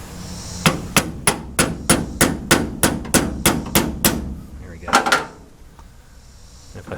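A hammer taps a part into a Mopar dash during a rebuild in a garage, about a dozen evenly spaced sharp knocks followed by a short cluster of quicker taps and a final lone hit.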